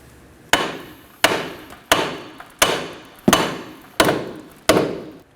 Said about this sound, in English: now using a hammer, we're going to go ahead and tap around this area to break this off